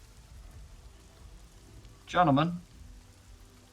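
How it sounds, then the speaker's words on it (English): Rain plays as a faint, steady background sound effect during a tabletop role-playing session. Someone speaks briefly over the soft, constant patter. "There's only the sound of rain."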